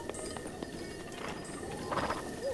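A horse's hooves clip-clop faintly in Zelda: Breath of the Wild, irregular soft knocks under a steady ambient game background, with no talking.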